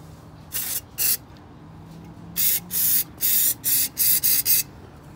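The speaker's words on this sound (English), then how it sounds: "So I'm gonna spray some more." Short hissing bursts of brake cleaner spray, two quick blasts then a run of six more in a steady rhythm, close and fairly loud, cleaning the EGR area of a 2000 Ford F-150 XLT.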